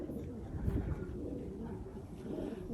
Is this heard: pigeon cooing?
yes